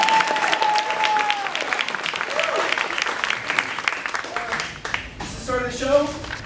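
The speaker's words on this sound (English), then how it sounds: "Clap, clap." Audience applause at the start of a stage show, a dense wash of clapping that fills the whole stretch, with whistles and voices mixed in and a louder burst of cheering near the end.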